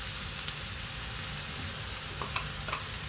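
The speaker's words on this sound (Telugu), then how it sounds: "ఇదేసి ఇది కూడా ఫ్రై చేయాలండి." Chicken curry ingredients with green chillies frying in a pan as a constant close sizzle. Soft scraping stir sounds come and go on top, with no voices.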